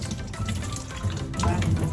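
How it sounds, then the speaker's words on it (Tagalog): Water pours steadily from a tap into coconut milk while cooking banana heart stew, a continuous close splashing rush with no talking over it. "lagay natin tubig kasi sayang"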